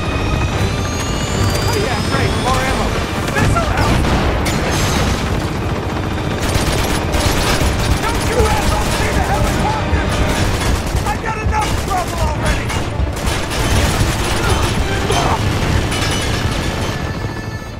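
Dense battle sounds from Uncharted 2: a missile launch and explosions amid sustained gunfire, with aircraft-like roaring, loud and continuous throughout with no letup.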